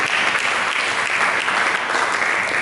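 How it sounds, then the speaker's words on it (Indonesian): A church congregation applauds during a sermon, steady dense clapping filling the room at close range and high level, carrying on without a break and with no voices over it. "Mari kita berikan tepuk tangan begitu."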